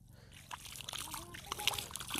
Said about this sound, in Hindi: मैं अब साफ़ करूँगा बिना साबुन के पानी से